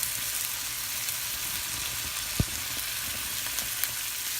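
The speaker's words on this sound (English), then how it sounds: "Alright guys, so you're just going to add your beans and cilantro down in here" Beans and cilantro stirred into a frying onion mix, a continuous sizzle with a sharp utensil knock midway and a few light clicks, close with no voices.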